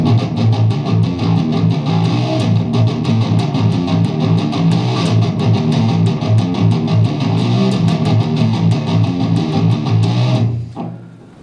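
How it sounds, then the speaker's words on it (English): Palm-muted electric guitar riff, played alone with heavy distortion as a steady, chugging, tightly damped rhythm that runs loud and continuous before cutting off near the end. "It starts out with a palm mute"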